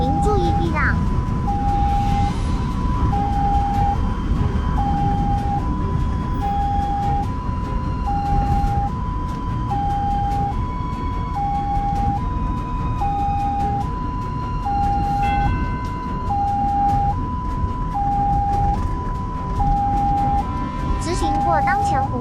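Ambulance siren wailing continuously in a two-tone pattern as the vehicle drives through morning rush-hour traffic, loud and close over road noise, with a navigation voice speaking over it.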